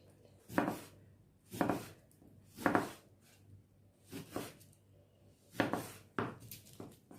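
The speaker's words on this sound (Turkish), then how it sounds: "Yarım limonum var. Onu böyle küp küp doğrayacağım." Soft, steady knife chops on a cutting board as a lemon is cubed, about one every second with a few quicker pairs, close by with no talking.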